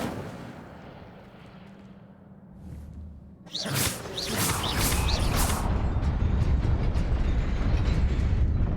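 An Incendio fire spell is cast in Hogwarts Legacy: a sudden loud whooshing burst of flame with crackling flares, then a sustained roaring fire that fills the space after a quieter ambient lead-in.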